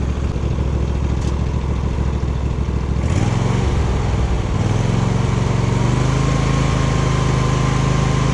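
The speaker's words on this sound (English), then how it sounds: "The choke had to be up about this much in order for the ride mower to start." A Murray riding lawn mower, run after sitting a year and a carburetor cleaning, runs close and loud with a steady small-engine drone that shifts up in speed partway through.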